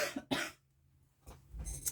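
Two sharp coughs in quick succession from a woman indoors, close and fairly quiet, followed by a softer throat-clearing sound.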